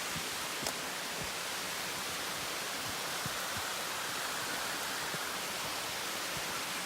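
Steady roaring hiss of a waterfall beside a steep mountain trail in Jirisan, Korea, heard up close as unbroken white-noise rush with faint scattered splashes and no speech.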